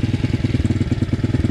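A motorcycle engine with somewhat weak compression idles close by with a steady, rapid thumping pulse, loud and continuous with no voices.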